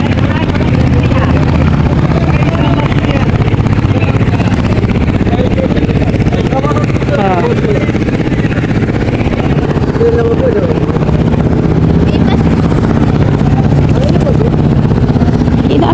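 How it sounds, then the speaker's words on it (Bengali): A boat engine drones loud and constant throughout an evening ride on the Buriganga river, with people talking faintly beneath it. "এখন নৌকা ভ্রমণ করতেছি বুড়িগঙ্গা নদীর উপর দিয়ে"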